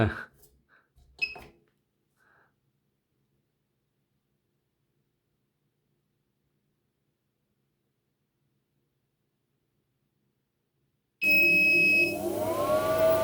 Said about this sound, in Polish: I on powinien zacząć za chwileczkę działać, będzie pikał sobie.